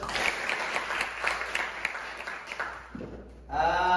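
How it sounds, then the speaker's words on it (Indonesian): A classroom of high school students claps together for several seconds, a dense moderate patter with the last half-second cut off by a voice speaking. "tepuk tangan dulu."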